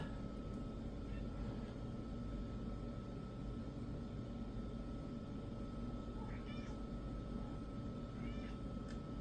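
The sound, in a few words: cat meowing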